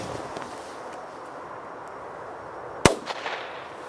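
A single sharp firework bang cracks out of quiet background noise, followed by a short dull echo fading away.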